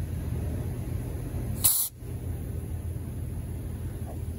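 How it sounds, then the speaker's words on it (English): Carb cleaner sprayed from an aerosol can while cleaning intake holes on a STIHL FS 110R 4-MIX trimmer engine, one short sharp hissing burst close by over a low background rumble. "Just sprayed carb cleaner all over my camera"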